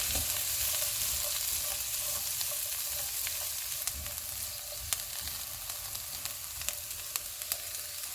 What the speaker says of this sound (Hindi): एक मिनट के बाद गाजर, बंद गोभी और मटर डालेंगे, इनको 2 से 3 मिनट तक भूनेंगे।